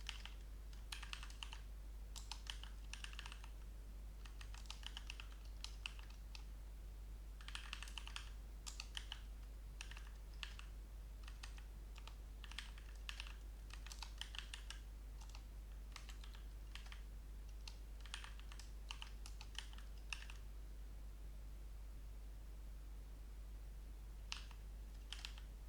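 Fingers type on a computer keyboard in quick irregular bursts of clicking keys with short pauses between, close and quiet, over a steady low electrical hum.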